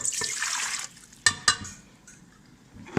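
Warm water poured into a large mixing bowl for breadstick dough, a bright splashing pour that stops, followed by a couple of sharp clunks and drips, close and moderately loud, with no voices.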